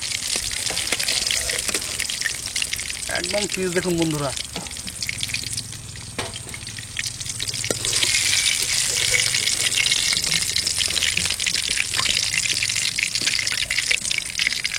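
Boal fish frying in oil over a wood fire, a loud continuous crackling sizzle with scraping stirs, while someone talks briefly over it.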